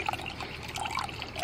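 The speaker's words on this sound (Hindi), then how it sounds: "देख रहे हैं पानी कैसे निकल रहा है।" Wash water drains and trickles from freshly rinsed chhena, a soft homemade paneer curd, giving a steady, close splashing dribble with no one speaking.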